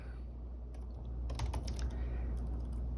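Quick bursts of keystrokes on a computer keyboard, a cluster of light clicks close to the microphone over a low steady room hum.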